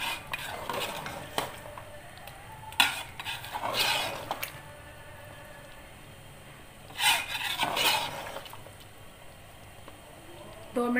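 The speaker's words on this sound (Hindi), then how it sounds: "अब तेज़ आंच में आप इसको भूनें।" Paste of onion, nutmeg, mace and green cardamom frying over high heat for Hyderabadi shahi chicken korma: a soft sizzle broken by bursts of spatula scraping and stirring against the pan, quiet between strokes.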